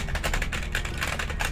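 Keyboard typing by a player during a Lethal Company session: a fast, steady patter of light key clicks running throughout, moderately loud over a dense low background hum, with no talk.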